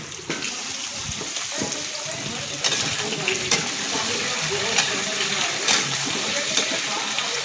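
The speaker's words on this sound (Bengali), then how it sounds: "এই তো পেঁপেটা আলুটা লাল করে ভাজা হচ্ছে" Papaya and potato pieces frying in a pan, a continuous sizzle with occasional stirring clatter and small scrapes close by.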